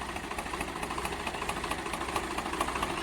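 Massey 1035 tractor engine idling steadily up close, with a rapid, even knocking pulse throughout and no voices.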